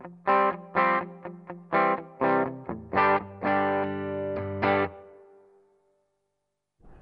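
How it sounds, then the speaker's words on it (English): An electric guitar plays through a Marshall Theatre Haze 40 combo amp with the reverb set halfway: a run of bright, slightly overdriven strummed chords and single stabs, close and loud, with a moderate ringing tail that fades out after the last chord. "bringing in the reverb on half, you get this."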